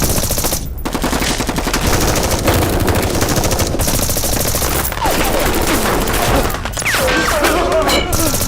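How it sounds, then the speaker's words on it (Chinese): Soldiers open fire together in a dramatic battle scene, loud sustained machine-gun and rifle fire crackling continuously at close range, with faint voices mixed into the din. "严彬， 开火！"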